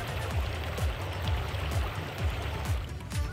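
Heavy rain pours down amid flooding in a town in Uttar Pradesh, a dense, steady wash of falling water and rushing runoff that fills the whole short stretch, loud and close, with no voices.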